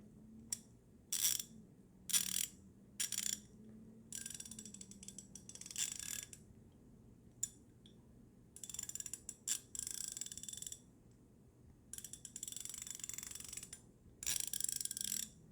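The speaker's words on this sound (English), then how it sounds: "first 72 tooth model ratchet" A Ko-ken 72-tooth ratchet is worked in repeated bursts of fine, rapid clicking, each run lasting about a second, with short pauses between them. The sound is close and crisp, with no talking.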